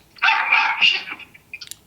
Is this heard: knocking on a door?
no